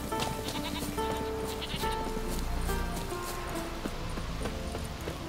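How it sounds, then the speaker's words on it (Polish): Sheep bleat repeatedly over a busy Witcher 3 village soundscape, with goats nearby and clip-clopping hooves, several overlapping bleats of varying pitch under steady ambient music and noise. "Tutaj owce, tam jakieś kozy."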